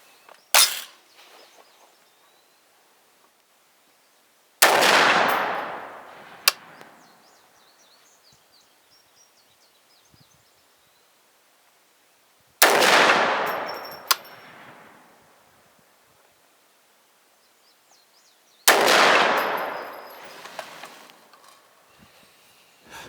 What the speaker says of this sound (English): H110 test shots, 450 Bushmaster, 200 grain FTX at 50 yards